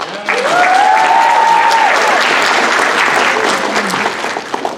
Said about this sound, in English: please give an additional round of applause to Kawayan Folk Arts